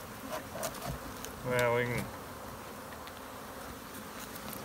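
Bees buzz around a toolbox used as a hive, a loud close burst swelling for about half a second amid quieter faint buzzing, with a brief spoken remark.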